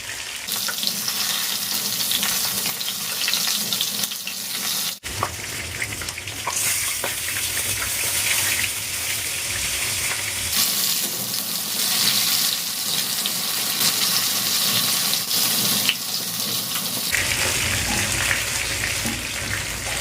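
Stuffed eggplant fries in a pan with a steady, close sizzle and crackle, broken by brief scraping and handling noises as the pieces are turned, with no talking.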